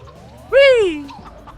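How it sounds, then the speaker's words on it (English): A single loud squawk from a chicken in a kart racing video game, one sharp rising-then-falling cry lasting about half a second over quiet game background. "Get out of the way, chicken!"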